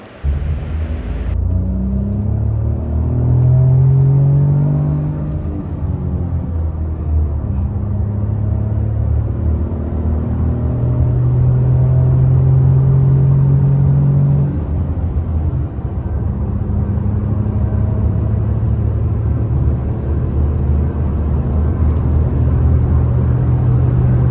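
A Toyota Taisor car on the move gives a loud, steady engine and road rumble with slow rises and falls in engine pitch as it changes speed, heard from inside and with no talking.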